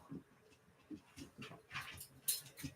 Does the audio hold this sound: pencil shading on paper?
no